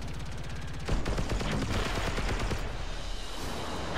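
Rapid, rhythmic automatic gunfire rattles in Warframe during a raid boss fight, a steady stream of sharp repeated shots, loud and continuous with a heavier burst near the middle.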